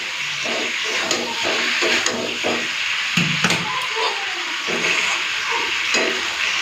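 Fried potatoes go into a pan of chicken being cooked down, and a steady, fairly loud hiss and sizzle of frying runs throughout with faint clatter and stirring, close by.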